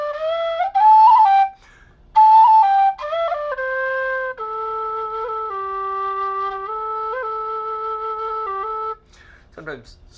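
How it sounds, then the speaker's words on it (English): An alto G tin whistle made by Sergey Vertletskii plays a slow melody of clear, sustained notes, a few short phrases and then long held tones, close and alone with no talking. "Sometimes some whistles you have to blow a little harder in certain places to get them up to pitch."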